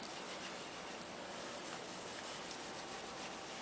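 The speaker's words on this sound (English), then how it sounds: "you're just going to want to, you know, rub it on the surface pretty liberally" Wood stain being rubbed by hand onto a gun stock, giving a steady, close, continuous soft rubbing and scuffing sound with no talking.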